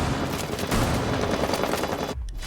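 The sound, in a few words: SMG-11 submachine gun gunfire from a video game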